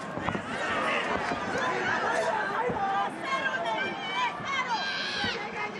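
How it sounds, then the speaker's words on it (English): A massive crowd in a Tokyo boxing arena at a Naoya Inoue vs Luis Nery bout, roaring and chattering in a broad, continuous swell, with ringside commentary talking over the noise. "As you can hear this massive crowd in Tokyo trying to rally support"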